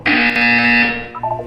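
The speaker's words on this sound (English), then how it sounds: "When you hear the buzzer, look down at the floor." A loud, harsh electronic buzzer from the video game Portal 2 blares for about a second, then drops into a few shorter, lower beeping tones.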